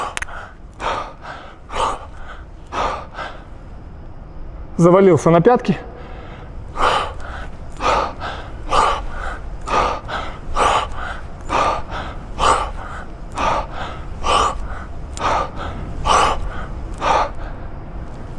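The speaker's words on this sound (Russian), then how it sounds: "если мы послушаем дыхание, это будет выглядеть вот так" Rhythmic heavy breathing during a kettlebell thruster exercise, sharp forceful exhalations repeating roughly every second over about eighteen seconds, close to the mic, with a brief spoken remark in the middle.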